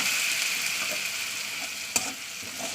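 Ground spice paste from a mixer jar hitting hot oil in a home kitchen pan, giving a steady, close, broadband sizzle that holds throughout, with a sharp clink of utensil partway and faint stirring scrapes.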